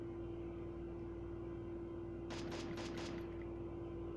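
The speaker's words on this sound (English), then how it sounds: "Someone is shooting. Some person is shooting now." Several rapid gunshots from Garena Free Fire, a short burst of about four cracks clustered mid-clip, fairly faint over a steady game hum with no talk.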